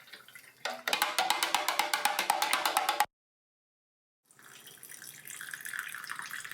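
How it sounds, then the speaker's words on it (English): Salt brine poured into jars of peppers for fermented hot sauce, a close gurgling stream with rapid rhythmic glugs, then a pause and a softer, steadier trickle of liquid. "We made a brine with a ratio of 2 tablespoons of salt per quart of water and poured it into"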